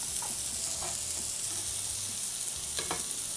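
Masala-coated fish frying in a pan, a continuous close sizzle with faint crackles and a couple of brief clinks, no talking.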